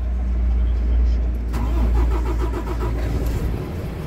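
A DAF XF 480 truck diesel engine cranks and catches partway through, settling into a loud, close, steady idle rumble with faint talk underneath.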